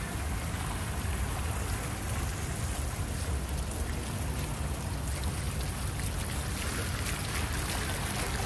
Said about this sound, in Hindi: आप लोगों को दिखा रहा हूँ कैसा लग रहा है पानी का फाउंटेन